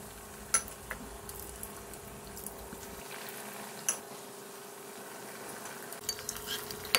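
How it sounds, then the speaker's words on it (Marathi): Batata vada dipped in besan batter deep-frying in hot oil in a kadhai, giving a steady, soft sizzle with a few faint clinks of a utensil and no talking. "आणि आता कढईमध्ये तेल गरम करून घेऊया आणि बेसन पिठामध्ये ते डीप करून"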